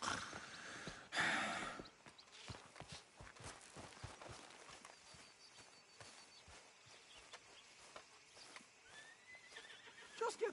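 In a PS4 video game, a horse gives a loud, close whinny near the start, followed by a steady run of hoof clip-clops and soft snorting breaths.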